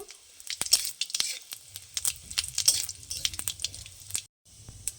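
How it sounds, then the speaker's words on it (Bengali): A tempering of dried red chillies and cumin seeds fries in oil, crackling and popping steadily with stirring clatter mixed in, close by, before it briefly drops to near silence near the end; nobody talks. "ফোড়নটা খুব ভালো করে ভাজা হয়ে গেছে"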